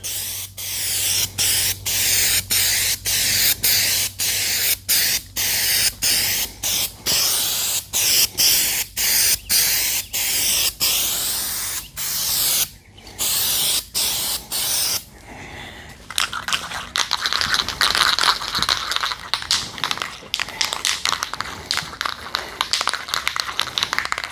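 Spray paint applied in coats: a can hisses in a long series of short even bursts, close and loud, then shifts into a steadier, brighter continuous spray toward the end.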